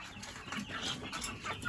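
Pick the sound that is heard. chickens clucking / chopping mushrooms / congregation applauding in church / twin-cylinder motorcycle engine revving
chickens clucking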